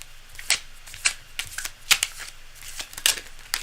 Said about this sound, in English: I'm just going to do one massive bulk shuffle.